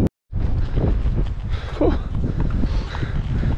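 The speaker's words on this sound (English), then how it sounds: "It's very windy." Strong wind buffeting the microphone with a steady roar on a beach while heading to a fishing spot, loud and continuous after a brief silent start.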